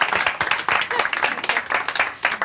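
A small audience in a charity shop claps, a dense patter of hand claps in quick uneven bursts for a couple of seconds.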